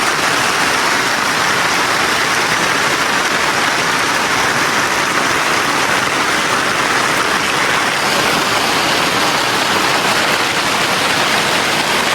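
Steady, heavy rain pours down in an unbroken, loud hiss with no pauses or voices, filling the whole stretch evenly.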